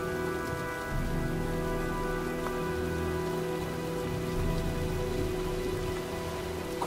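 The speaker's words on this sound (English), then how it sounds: "Well, looks like a storm's coming." Steady, continuous rain pours onto surfaces in the video game Heavy Rain as a storm sets in, a dense even hiss that stays at the same level throughout with no voices.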